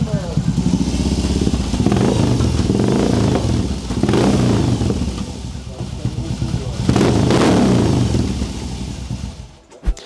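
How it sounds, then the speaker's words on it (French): A new BMW R motorcycle fitted with a custom-made silencer runs steadily near and loud, its engine note rising and dipping in a few blips over ten seconds before cutting off at the end; people talk over it. "mais regarde au ralenti"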